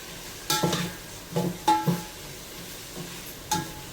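Chopped onion with a pinch of salt fries in a pan for chicken biryani, a spoon scraping and stirring in a few short, separate strokes over a faint sizzle, close by with no talking.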